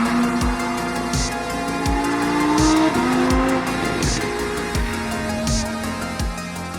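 A rear-wheel-drive Lamborghini Huracan EVO's naturally aspirated engine screams while driving, a loud sustained high-revving wail with rapid upshifts marked by repeated sharp gear-change dips, heard from inside the car without talk.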